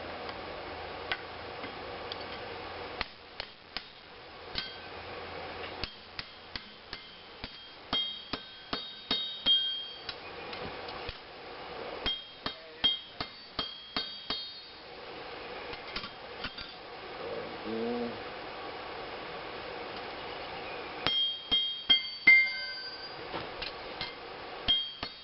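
Sharp hammer blows ring out on heated trap spring steel being flattened at the anvil to forge a knife, struck in quick irregular bursts with short pauses between, close and loud with no talking.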